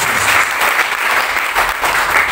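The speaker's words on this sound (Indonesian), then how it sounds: "Beri tepuk tangan yang terbaik buat Tuhan Yesus." A congregation claps loudly and continuously in a church during a men's worship service, dense steady applause filling the space with no voices standing out.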